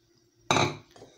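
Eggs are cracked into a bowl of semolina: one sharp, close crack followed half a second later by a softer second knock, with near silence around them.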